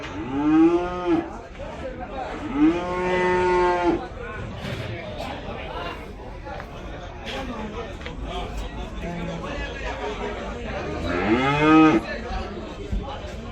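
Cattle at the Gabtoli livestock market during Eid low three times in loud, drawn-out moos, close by, with crowd chatter and talking between the calls.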